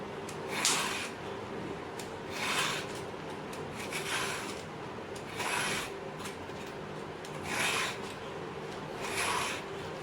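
A ridge gourd's skin being peeled away, five soft rasping scrapes spaced about two seconds apart, close and fairly quiet over a faint steady background hum.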